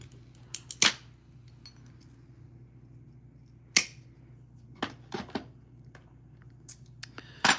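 Iridescent purple glass being freeform cut into a butterfly shape gives sparse, sharp clicks and brittle snaps, close by and separated by quiet gaps, with a small cluster of ticks near the end.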